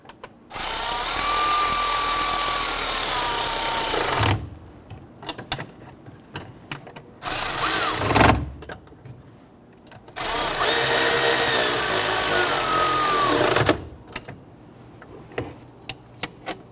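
A power tool whirs in three strong bursts of several seconds each, driving bolts while replacing the starter on a 2011-2015 Kia Sorento, with quiet pauses between runs and no talking.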